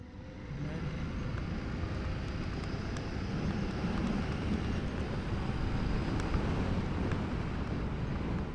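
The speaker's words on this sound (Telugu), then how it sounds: "bike audio in the sense bike exhaust sound" Royal Enfield Interceptor 650 motorcycle under way, its exhaust a steady low drone blended with heavy wind rush across the microphone, continuous and unbroken, with no talking.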